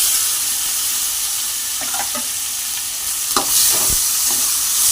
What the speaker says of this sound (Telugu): టమాటాలు కొత్తిమీర వేసుకున్న తర్వాత బాగా కలుపుకొని ఒక రెండు నిమిషాలు బాగా వేగనీయాలి